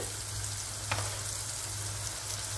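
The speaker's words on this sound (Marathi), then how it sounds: "आता परतून घेऊया, गॅस मोठा केला। आता टाकत आहे मी अद्रक आणि लसूणची पेस्ट" Ginger and garlic paste sizzles in a hot pan over a high flame, a steady soft frying hiss with one brief sharper crackle near the start, fairly quiet and with no talking.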